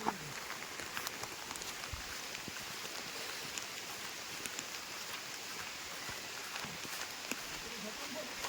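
Light drizzle falling on a Sahyadri mountain trek to Bhairavgad, a quiet, steady hiss of rain scattered with tiny droplet ticks, faint and even throughout.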